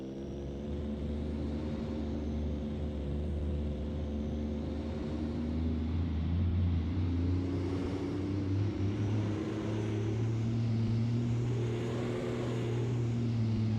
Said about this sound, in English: The sound of the turbo on here is just hypnotic, man.